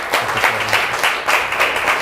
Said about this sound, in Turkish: Ona bir kocaman alkış verelim.